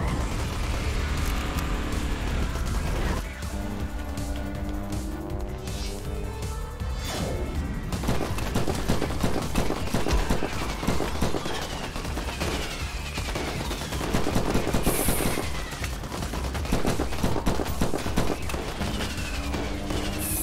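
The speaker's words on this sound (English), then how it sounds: "I'm shooting at the drop pod." Continuous heavy gunfire from a powerful weapon in the sci-fi shooter From Space, loud rapid shots firing nonstop at a drop pod with crashing impacts and explosions mixed in.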